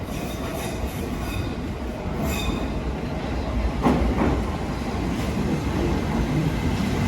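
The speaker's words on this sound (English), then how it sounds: "There's a train coming in now, and it's still got all the Victorian makings." A London Underground train rumbles into a Victorian-era station with steady rail noise, a few squealing wheel tones and clicks building toward the middle, echoing in an enclosed space.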